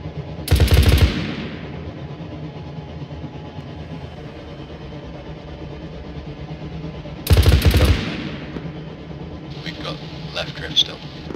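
A heavy machine gun in Arma 3 fires two loud, short bursts about six seconds apart, with a low ambient hum between them and faint clicks near the end.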